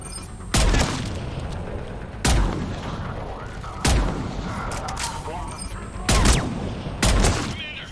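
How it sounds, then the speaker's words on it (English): Mortar fire in the video game Mass Effect 3 during a battle against Cerberus forces: five heavy, sharp blasts at irregular intervals, each with a rumbling tail, over a constant backdrop of battlefield noise. "we're getting a lot of mortar fire"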